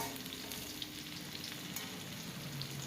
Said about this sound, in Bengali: পেঁয়াজগুলো একটু ভালো করে ভেজে নিতে হবে